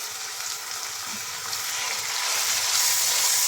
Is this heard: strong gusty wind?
no